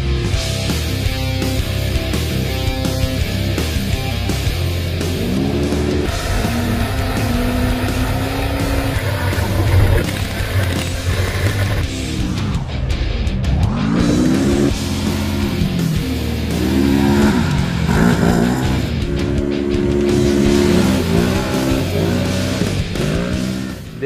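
A Polaris RZR XP 1000 side-by-side races hard along desert trails in Arizona, its engine revving up and down through gear changes in a loud, continuous, close roar.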